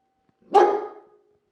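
A single sharp dog bark, close and loud, with a short ringing tail, alone against silence.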